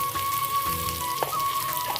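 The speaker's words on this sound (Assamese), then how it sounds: "তেল দিয়াৰ পিছত অলপমান পিঁয়াজ ধুনীয়াকৈ অকণমান ৰঙা হোৱালৈকে এনেকৈ ৰৈ থাকিম।" Onions fry in hot oil in a pan, giving a steady close sizzling hiss with a faint crackle throughout.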